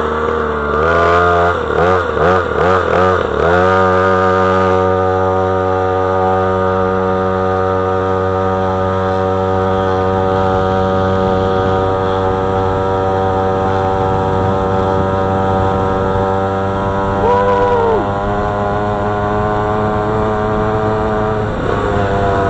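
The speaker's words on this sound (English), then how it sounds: "That two-stroke sound, wicked." A 50cc two-stroke KXD01 Pro mini dirt bike engine, revved several times in quick blips at the start, then holding a loud, buzzy high idle close by, with another brief rise in pitch later.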